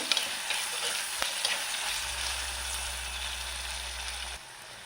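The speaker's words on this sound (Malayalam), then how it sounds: "അപ്പോൾ ഈ തക്കാളി നമുക്ക് നന്നായി ഒന്ന് വേവിച്ച് എടുക്കാം അപ്പോൾ ഇതിലേക്ക് കുറച്ച് ഉപ്പ് കൂടി ചേർത്ത് കൊടുക്കാം" Tomatoes cooking with salt in a pan give a steady close sizzle with faint stirring and a low hum joining partway through, no talking.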